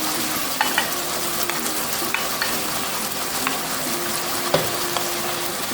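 Carrots sauté in a pan for a Jamaican-style beef liver dish with provisions, giving a steady, close sizzle and frying crackle with occasional stirring scrapes throughout.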